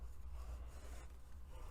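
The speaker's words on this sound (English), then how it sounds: "I'm kind of just doing a gentle sawing action because we're just releasing it from the glue" A blade slides back and forth along the glued edge of a watercolor block, gently sawing a sheet free; soft, faint rubbing and scraping strokes, close and steady.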